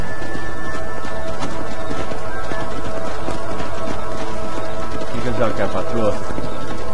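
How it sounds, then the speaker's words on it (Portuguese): Hooves clip-clop at a riding pace in the Red Dead video game, steady beneath in-game music and a voice talking over them. "Não vou pegar o cavalo e seguir ela."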